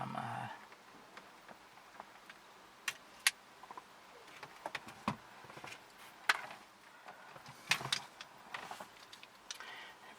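Faint, sharp clicks and snips come from cutting the wires of stereo connectors in a Volvo V70. Several isolated cuts are spread over the stretch against quiet background handling noise.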